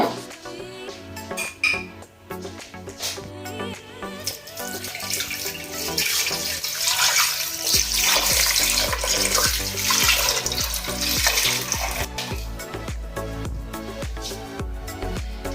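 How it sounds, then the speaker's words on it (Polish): Water pours steadily into a pot of pork ribs with celery, parsley root and leek, a loud continuous rushing splash that builds and holds to the end. "Zalewamy to wodą."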